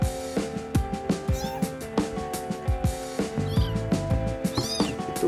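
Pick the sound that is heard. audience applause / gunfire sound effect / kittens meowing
kittens meowing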